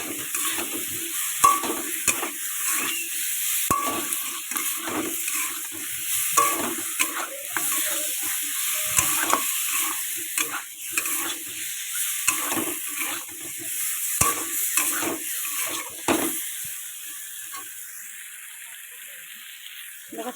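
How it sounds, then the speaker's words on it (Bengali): Potatoes fry in a pan while being stirred, a steady close sizzle under frequent scraping and clattering strokes of the spoon for the full length, with no talking. "এটা লাল লাল করে ভেজে নিতে হবে"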